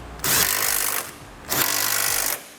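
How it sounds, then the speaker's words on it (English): A power tool with a 17 mm socket tightens bolts on a Curt trailer hitch on a 2008 Infiniti EX35, running in two loud whirring bursts close by with a short pause between them. "Next, we can tighten up our hardware."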